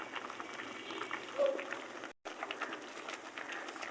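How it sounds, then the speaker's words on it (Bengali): Sweet pumpkin peels boil in a pot of water, a quiet, steady bubbling with small pops, close and soft, briefly cut by a moment of silence. "মিষ্টি কুমড়ার ছোকা ভর্তা করার জন্য মিষ্টি কুমড়ার ছোকাগুলো সিদ্ধ করতে দিয়েছি"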